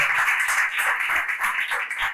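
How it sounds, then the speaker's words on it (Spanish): Brisk clapping from an audience at a talk during a book fair, rhythmic and fairly close, continuing steadily for a couple of seconds. "un aplauso más fuerte"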